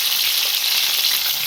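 Green chillies and mustard seeds frying in hot oil as the tempering for a curry, giving a steady, loud, close sizzle that stays even throughout with no voices.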